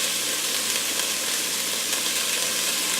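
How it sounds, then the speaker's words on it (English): Leeks cooking in a pot for potato and leek soup, sizzling with a steady dense hiss while being stirred, close and continuous with no talking. "So we're going to stir that around."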